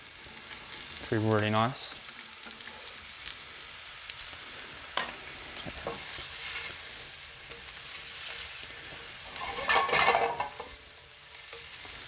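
Vegetables stir-frying on a hot griddle iron for a maple and ginger stir fry, a soft continuous sizzle with scraping and stirring bursts, plus a brief voice speaking.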